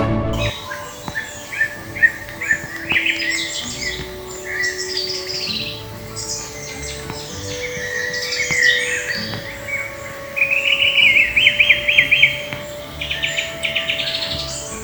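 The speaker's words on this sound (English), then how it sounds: "birdsong literally fills the Meon Valley" Birds chirp and sing from several spots across the open, quiet Meon Valley in the South Downs, with a steady low hum underneath and a brighter burst of trilling near the end.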